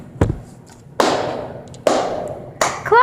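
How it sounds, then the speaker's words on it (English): Hand claps in a hotel, four sharp single claps spaced about a second apart, each ringing out with a long reverberant echo tail, close and loud, with a brief voice sound at the very end. "Clapping!"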